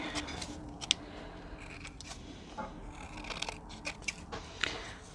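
Scissors snip through paper playing cards in a quiet room, with a run of sharp close cutting clicks and crunches at an uneven pace and no talking.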